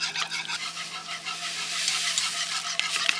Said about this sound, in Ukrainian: І в літр бульйону додаємо желатин.